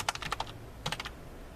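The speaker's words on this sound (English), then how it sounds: "I'll type back in hello world" Quick keystrokes on a computer keyboard come in two short bursts of clicks separated by a brief pause, close and quiet with no talking.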